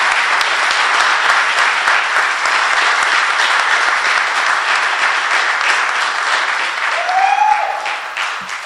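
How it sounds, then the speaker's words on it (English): Sustained audience applause at a graduation ceremony, steady and full throughout, with a brief whistle or cheer near the end as it begins to taper. "Can we please give them a huge round of applause?"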